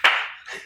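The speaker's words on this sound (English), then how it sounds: "Oh, very ironic applause there." Brief scattered clapping from a small group at a live acoustic concert, a short burst that thins out quickly.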